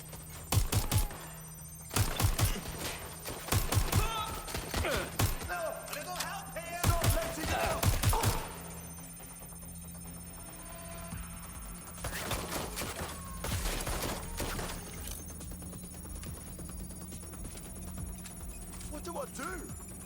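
Gunfire in Watch Dogs Legion comes in several sharp volleys of shots during the first half, then sparser cracks later, with someone talking and game ambience running underneath.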